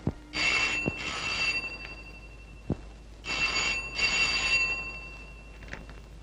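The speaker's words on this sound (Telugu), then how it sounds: "అమ్మా సావిత్రి, మీ అన్నయ్య అనుకుంటాను. ఫోన్ ఎత్తు." A telephone rings in two bursts of rapid bell trills separated by a pause, with a few clicks and knocks in between.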